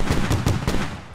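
Rapid bursts of automatic cannon fire from a BTR-82A armored vehicle in the combat game Squad, a loud, dense run of shots over about a second that tails off at the end.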